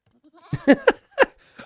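Goats in Age of Empires bleat in a short series of three or four close, nasal calls over about a second, clear and alone with no talk.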